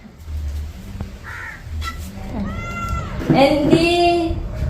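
A cat meows a couple of times, rising and falling calls growing louder near the end, with crow-like calls and background noise around it.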